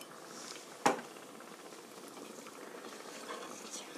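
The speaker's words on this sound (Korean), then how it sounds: "5분 정도 끓여주세요. Boil 5minute." A pot of water and sauce for gnocchi bubbles on a low boil, a faint steady simmer with soft popping throughout and one brief louder knock near the start.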